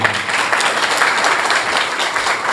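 Audience applause fills a business association meeting in an industrial area, a dense, steady wash of clapping held at constant loudness throughout, with no voices on top.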